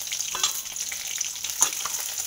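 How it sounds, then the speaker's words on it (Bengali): Fish frying in hot oil in a home kitchen in the morning, a steady bright sizzle with faint crackles and pops, heard alone without talk. "মাছ ভাজা চলছে।"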